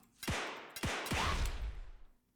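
Two or three sharp gunshot bursts ring out in the Furball Blitz bullet-hell game, each a crisp crack with a short decaying tail, close and moderately loud with no speech.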